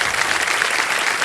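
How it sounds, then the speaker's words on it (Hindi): A studio audience at the KBC quiz show breaks into loud, dense applause, a steady wash of clapping hands filling the whole moment. "तालियां बज जाएं युवराज के लिए।"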